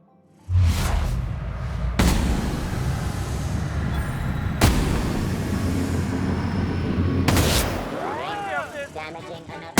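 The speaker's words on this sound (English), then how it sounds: "She's really shooting!" Enemy gunfire in The Outer Worlds: loud, booming shots crack out at intervals over a rumbling, noisy firefight, with a voice and electronic warbling near the end.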